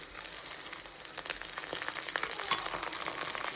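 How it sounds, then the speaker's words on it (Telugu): Finely chopped ginger and garlic fry in a pan for an aloo and drumstick curry, giving a steady, bright sizzle with crackling pops and stirring scrapes, close and continuous, with no talking. "మగ్గిన తర్వాత అల్లం వెల్లుల్లి సన్నగా తరిగి ఇలా వేసుకొని ఫ్రై చేసుకోవాలి"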